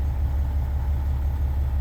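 Parked trucks on a yard idle in the morning with a steady low diesel rumble, close and even for the whole moment, with no talking.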